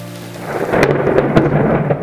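A loud thunderclap rumbles through steady heavy rain during a thunderstorm, with a sharp crack near the middle and rain pattering on surfaces throughout, close and full.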